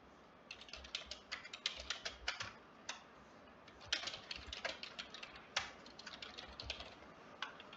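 Computer keyboard keys clatter in uneven bursts while a post description is typed, close and fairly quiet, with brief pauses between runs of keystrokes and no talking.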